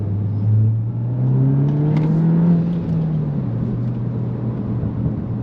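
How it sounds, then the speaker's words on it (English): A tuned Mk8 VW GTI pulls from a rolling start in second gear, its engine note rising steadily as it accelerates, a loud close whirring drone that climbs in pitch before settling into a steady hum. "I'm gonna go into second gear, do a rolling pull"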